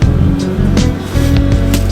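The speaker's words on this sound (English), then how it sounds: "I've parked down here, I've got the engine running" A parked van's engine runs nearby with a loud, steady rumble, with brief clattering bumps and rustles over the top.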